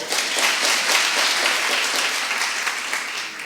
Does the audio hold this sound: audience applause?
yes